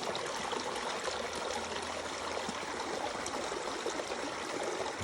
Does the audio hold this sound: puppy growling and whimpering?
no